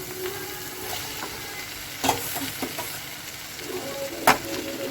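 Boiled potatoes are added to a pan of gravy for a potato curry, bringing a quiet, steady sizzle. Close, soft stirring scrapes and a few sharper clinks land at intervals.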